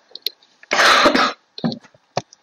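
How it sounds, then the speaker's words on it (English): A single harsh cough bursts out close to the microphone, followed by a few small throat sounds and clicks in an otherwise quiet room. "Sorry about coughing in the video, it might sound really bad."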